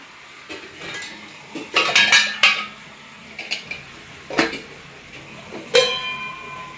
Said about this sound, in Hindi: तब तक हम लोग बर्तन रखते जाते हैं।